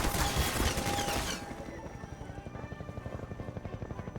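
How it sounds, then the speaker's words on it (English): Helicopter in the video game Half-Life 2: a dense, loud burst of roaring noise and rapid gunfire-like crackle in the first second and a half, then a steady rhythmic rotor chop continuing at moderate level to the end. "What were we supposed to do about a chopper?"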